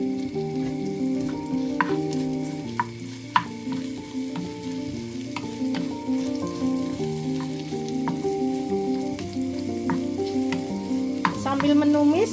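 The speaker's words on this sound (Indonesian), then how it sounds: "Kita tumis." Ingredients sautéing in a pan for oxtail soup give a continuous sizzle with occasional sharp clicks of stirring, heard under steady background music throughout.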